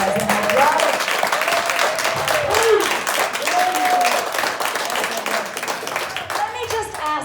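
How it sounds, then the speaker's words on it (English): A town hall audience claps in a dense, sustained round of applause, with voices calling out over it and a few sharper individual claps standing out near the end. "all the people that are just now clapping"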